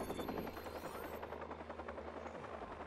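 Helicopter from the video game Watch Dogs flying overhead, a steady loud rotor thrum and whine that holds without break throughout.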